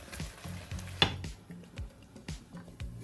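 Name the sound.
stirring palak spinach chicken curry in a pan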